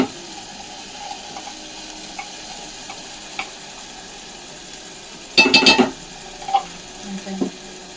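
Onion, tomato and peanut paste frying in a pan for chicken curry gives a faint, soft sizzle with scattered small ticks, broken by a loud burst of scraping stirring near the end.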